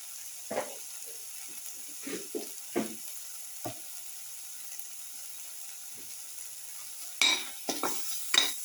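Pepper shrimp are stirred in a frying pan with black pepper powder, coriander powder and mixed spices added. A spoon scrapes and clinks in scattered strokes over a quiet, faint sizzle, with a few louder clatters toward the end.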